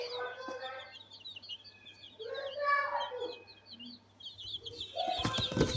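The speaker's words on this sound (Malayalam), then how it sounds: "കോഴി" Chickens cluck steadily in rapid runs, with a louder cackling phrase in the middle and a burst of clattering noise near the end over a low background hum.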